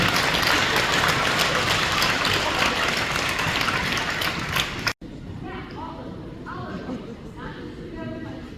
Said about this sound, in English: Give them a round of applause for letting me get this